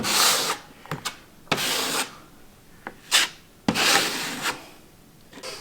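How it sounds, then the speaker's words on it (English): A putty knife spreads filler over dents and holes in an interior wall before painting, making several close, raspy scraping strokes with short pauses and small knocks between them. "we're filling in anything that we think is an imperfection that we want to be smooth once the wall is finished and painted"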